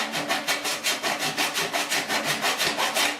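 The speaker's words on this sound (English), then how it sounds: "the bit of waviness of the grinder leaves in there, file it right out." Hand file stroking across the edge of a steel patch panel for a 1969 C10 core support, smoothing out grinder marks; a steady run of about fourteen even, rasping strokes, close and fairly loud with no talk.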